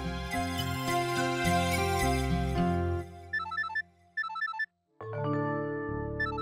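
A bright electronic phone ringtone melody plays loudly, breaks off into short chirping beeps, then the tune starts again.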